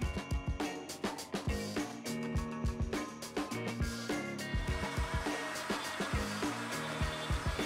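A Shapeoko 3 CNC router machining a forked clamp part, a loud continuous motor whine with rapid rhythmic cutting pulses throughout, close and steady with no talking.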